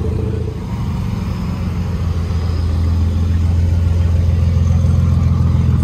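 A loud, steady engine drone from a modified car with a twin exhaust at a Bangkok drag race event, swelling slightly partway through and dominating the nearby crowd noise.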